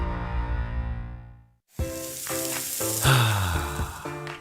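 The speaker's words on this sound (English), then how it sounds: "That's the sound of James adding long-lasting Gain scent boosters to his laundry this morning." Small beads of laundry scent booster poured into a washing machine, a steady granular hiss and patter that cuts off, then resumes with rattling, tumbling pours and bright clicks.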